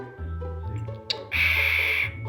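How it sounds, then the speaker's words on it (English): A pet cockatiel makes a short, odd gulping sound at close range, followed by a brief hissy burst, quiet and on its own without talk. "you can even hear him make a gulping noise."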